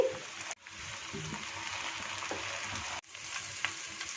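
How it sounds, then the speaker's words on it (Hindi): Sliced okra sautéing over medium heat in a pan with a steady sizzle, while a spoon stirs it and scrapes the pan now and then. Two brief cuts break the sound. "हीट को मीडियम रखा हुआ है और लाइट गोल्डन कलर होने तक इसे सॉटे कर लेंगे।"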